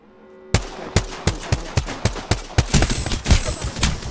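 Rapid gunfire in Apex Legends rings out in a run of sharp, loud shots about every quarter second, speeding into a denser burst near the end.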